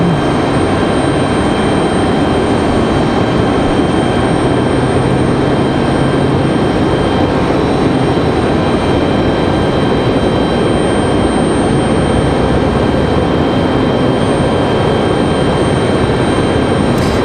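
A Boeing 737 MAX 8 departing Raleigh-Durham airport produces a steady, loud, broadband jet roar that holds without a break, with no voices.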